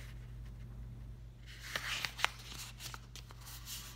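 Orange paper is folded by hand into a note, with soft crinkling and rustling, a few sharp creasing snaps and light scraping, heard close up against a low steady hum.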